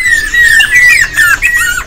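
An albino Javan pied starling at an Indonesian bird market gives loud, close squawks, a series of harsh whistled calls in quick bursts with brief pauses.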